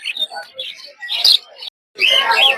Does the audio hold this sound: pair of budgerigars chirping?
yes